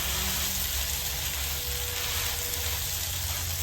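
A bread slice toasting in butter on a hot griddle gives a steady, close sizzle and crackle that runs unbroken throughout, with no talking.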